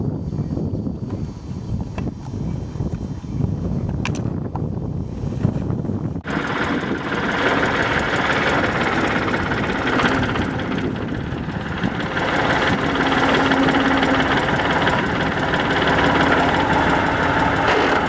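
A tractor engine runs at a work site at home, a low continuous rumble with wind buffeting the microphone, growing fuller and closer after a few seconds and staying steady.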